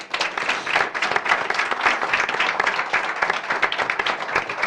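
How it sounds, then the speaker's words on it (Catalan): Sustained audience applause at a school event, dense and even clapping from a crowd lasting the whole stretch at close range. "Els donem un aplaudiment."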